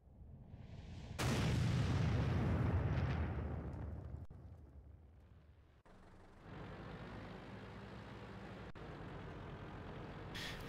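A tank gun fires in World of Tanks with a single deep, loud boom that rolls out and slowly decays, followed by a steady engine rumble and faint mechanical clicks.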